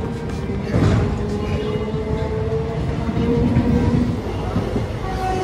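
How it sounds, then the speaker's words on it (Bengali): The Teesta Torsha Express pulls out of Naihati station with a steady, close rumble of wheels and carriages that holds level throughout, with faint murmuring underneath. "আর আমাদের ট্রেন নৈহাটি স্টেশন থেকে 3:59-এ ছাড়লো"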